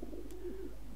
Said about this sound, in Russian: Удивительные птицы голуби.